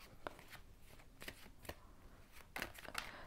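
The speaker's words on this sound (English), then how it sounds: "Let me shuffle these cards. I want to make sure that I really shuffle them." A deck of tarot cards is shuffled over and over, giving soft riffling bursts and flicks in an irregular rhythm. The sound is quiet and close.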